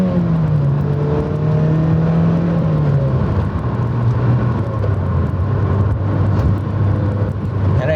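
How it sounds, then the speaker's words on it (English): A 2008 Mazda MX-5 Miata NC revs and accelerates hard on winter roads, its engine note climbing and shifting through short gears in a steady, loud drone close to the cabin, with no talk over it. "For now, just get a couple more accelerations in here."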